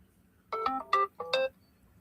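An outgoing phone call rings out as two short bursts of a bright electronic ringback tone, separated by a brief pause, heard clearly over a quiet background.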